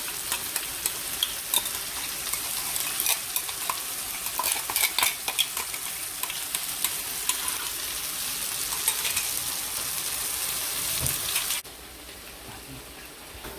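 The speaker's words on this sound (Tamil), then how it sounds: "எல்லாம் மசாலா மிக்ஸ் ஆகிற வரைக்கும் எல்லாம் கிண்டி" Chicken masala with a ground red chilli and cashew paste frying in a pan, a steady loud sizzle broken by scraping spoon strokes and metal clinks, the hiss easing off near the end.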